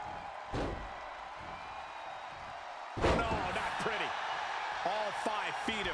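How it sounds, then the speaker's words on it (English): A DDT slam in the WWE 2K24 casket match video game between Charlotte Flair and Alexa Bliss lands as a sharp thudding impact, followed by another heavy hit, with commentary talk running over the game noise. "Alexa Bliss with a DDT"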